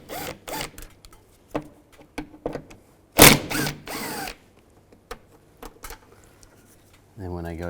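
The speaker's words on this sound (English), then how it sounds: "Take these 3 screws out." A ratchet with a T30 socket works on the door latch screws of a 2006-2011 Cadillac DTS, heard as short bursts of close clicking and rasping separated by pauses, with a brief voice near the end.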